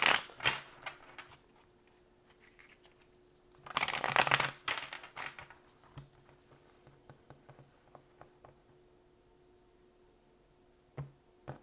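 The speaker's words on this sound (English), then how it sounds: "Let's do 2 more shuffles, and then we'll jump into the tarot." Tarot cards being shuffled by hand in a few quick riffling bursts, the loudest one near the middle, followed by soft scattered taps and card handling in a quiet room.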